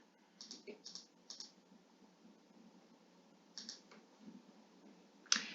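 Faint, quiet mouse clicks come in small clusters of single taps, spaced by pauses, while pictures are selected on a reCAPTCHA check, ending with one sharper click.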